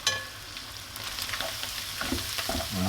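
Flour is stirred into a sizzling pan as the base for a seafood chowder, with a close, continuous frying hiss broken by soft spoon scrapes.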